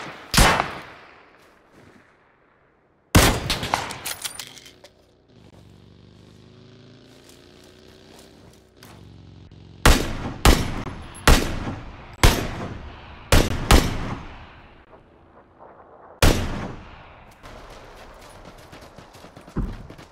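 Repeated gunshots from PUBG, with sharp loud bursts and single shots, some in quick clusters near the end, over quieter gaps and a faint background hum.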